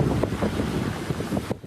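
Typhoon Krathon's strong winds and rain lash Kaohsiung during landfall, a steady, close buffeting roar of gusts pounding the microphone with no voices.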